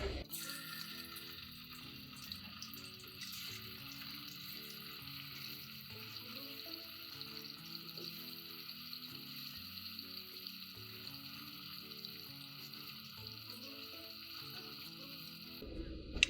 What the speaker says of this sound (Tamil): இதே மாதிரி எல்லா மீனையும் நம்ம பொரிச்சு எடுத்துக்கலாம்